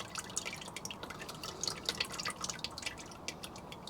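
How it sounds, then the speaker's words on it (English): Water dripping beneath a MK1 Citroen BX 16 TRS during an oil and filter service, a continuous patter of close, crisp droplets falling at an irregular quick rhythm, with no talk. "Uh-oh, you're being dripped on."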